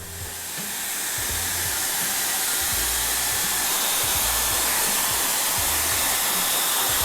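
Barber's hair dryer blowing steadily on the sides of a client's head before a mid skin fade, a loud continuous roaring whoosh with slight wavering as it moves, no talking.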